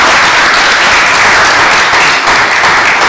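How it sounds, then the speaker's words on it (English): Loud, dense applause from the crowd at a water district rate meeting, honoring the rank-and-file staff, as continuous clapping sustained for several seconds with no pauses. "can we please give them a round of applause?"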